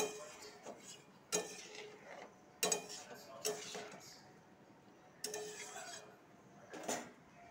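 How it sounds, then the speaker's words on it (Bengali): A spoon stirs milk and water into potatoes in a pot, giving quiet, scattered clinks and scrapes against the metal with pauses between them. "জল মিক্স করে নিয়েছি দুধের সাথে, দিয়ে দিব। নাড়াচাড়া দিব।"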